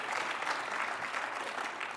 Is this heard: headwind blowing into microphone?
no